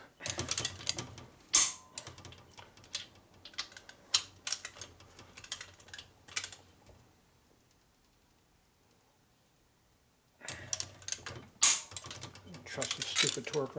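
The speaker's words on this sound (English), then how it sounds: "This is a Harley, we actually torque head bolts here." A torque wrench tightens head bolts on a 1961 Harley Sportster XLCH engine during a rebuild. Close, irregular ratcheting clicks come in bursts, with a long quiet gap in the middle before the clicking resumes.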